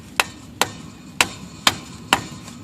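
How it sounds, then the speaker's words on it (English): A hammer striking to knock a clutch pilot bearing out of a 1989 Toyota truck, five sharp metallic blows at a steady, unhurried pace, close and distinct, with no speech. "I think this is going to be the final hammer blow"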